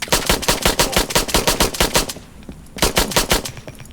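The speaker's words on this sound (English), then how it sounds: "I'm shooting this guy in the leg" Rapid machine-gun fire from a mech shooting an enemy mech's leg in Mechwarrior Online, loud close bursts of evenly spaced shots with a brief pause before the firing resumes.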